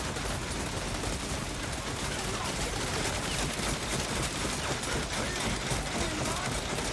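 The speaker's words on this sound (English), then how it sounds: "I just love listening to the Rattling guns fire. A lovely sound effect." Skaven Ratling guns rattle in a dense, unbroken fusillade during a Total War: Warhammer 3 battle, a loud continuous stream of rapid overlapping gunfire with no pauses.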